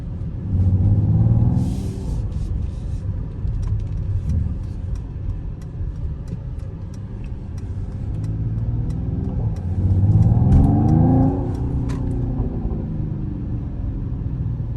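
A Mercedes-AMG GT53 drives through streets with a deep, close engine rumble, swelling twice into brief accelerations, with light clicks and ticks over the steady cabin drone.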